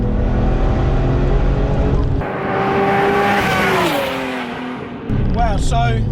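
A Porsche 911 996 Turbo X50 accelerates hard under turbo boost, the engine note climbing loudly through the revs, dropping briefly at a gear change, then pulling again with rising harmonics.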